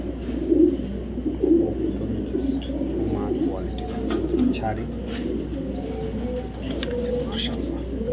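Racing pigeons at a sale club coo in low, repeated burbles close by, with a persistent hum underneath and occasional soft chirps.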